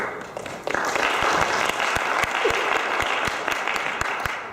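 An audience at a talk on data center energy costs applauds as a speaker takes the stage; dense clapping swells quickly, with a few sharp, distinct claps standing out, then fades slightly toward the end.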